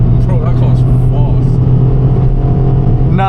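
A car accelerates hard with a loud, steady engine drone rising in pitch, heard up close from inside or beside the car while people talk excitedly over it.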